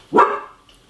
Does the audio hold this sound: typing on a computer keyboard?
no